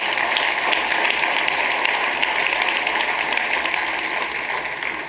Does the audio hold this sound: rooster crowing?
no